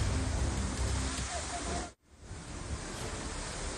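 A steady, dense hiss of heavy monsoon rain in Navi Mumbai fills the clip, cut off briefly by a short gap before the downpour resumes.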